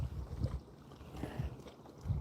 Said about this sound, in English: It's so windy, I can't even get my line in.